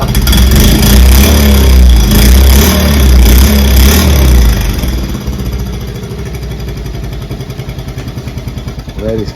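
A Honda moped engine catches and revs loudly and raggedly for several seconds, then settles into a quicker, steadily pulsing idle close by.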